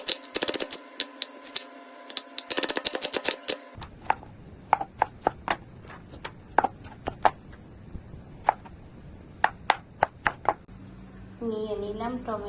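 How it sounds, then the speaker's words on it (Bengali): A knife chops two onions and two tomatoes on a board, giving a string of sharp, close taps, fast and clustered at first, then spaced out, with a voice heard briefly near the end. "এখন দুটো পেঁয়াজ আর দুটো টমেটো কেটে নিচ্ছি।"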